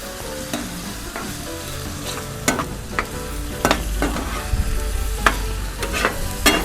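Food seasoned with paprika and turmeric sizzles steadily in hot oil, with sharp clacks of a utensil stirring and scraping the pan at irregular intervals.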